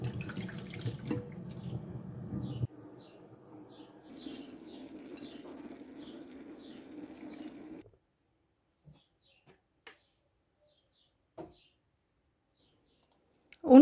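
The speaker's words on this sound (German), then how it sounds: "Auch wenn das Nachbarspflaumen bio sind, dennoch werden sie gründlich gewaschen und gereinigt." Neighbour's organic plums are rinsed thoroughly under a running kitchen tap, a steady splashing stream for several seconds before it shuts off, followed by a few faint clicks and a soft clatter in a quiet room.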